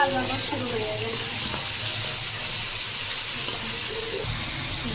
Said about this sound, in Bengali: মশলা খুব ভালোভাবে কষিয়ে নিচ্ছে